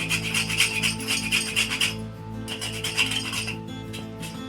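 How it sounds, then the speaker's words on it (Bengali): Whole nutmeg rasped on a grater for chicken butter masala gives a quick, steady run of scraping strokes, then a brief pause before fainter strokes resume over a constant low hum. "আমি একটু জায়ফল ঘষে দিচ্ছি।"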